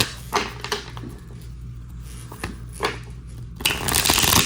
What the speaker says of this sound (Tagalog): balasahin muna po natin just to make sure na talagang nabalasa po ang ating mga baraha.